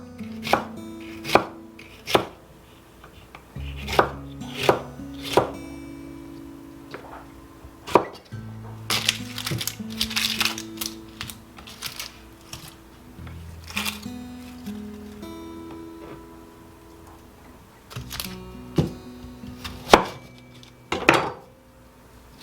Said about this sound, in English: So now in addition to the peppers, I am cutting an onion into strips.